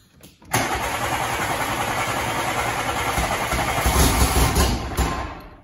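The engine of a 1988 Volkswagen Polo MK2 Breadvan cranks and catches, then runs at a loud, rough, steady idle close by, rising slightly near the end.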